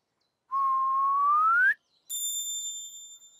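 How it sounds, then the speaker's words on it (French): A single clear whistle rises steadily in pitch for about a second, followed after a brief pause by a bright ringing chime. "C'était un sifflement."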